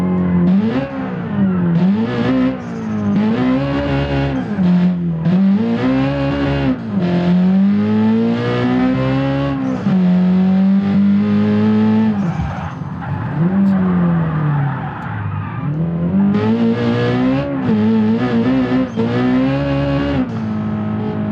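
A car engine on a race track day revs loudly and repeatedly, pitch climbing and dropping through gear changes with brief tire squeal, close and intense, with no talk.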